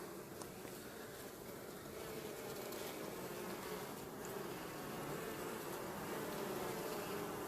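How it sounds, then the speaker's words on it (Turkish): Steady, dense buzzing of many honeybees at a hive entrance, a continuous drone without pause. "Arı çıkıyor şu anda."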